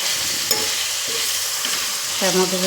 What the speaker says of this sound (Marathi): ही पण आता मी तेलावर परतवून घेत आहे